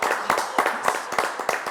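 An audience applauds on a French TV show, a brief burst of scattered clapping at moderate volume.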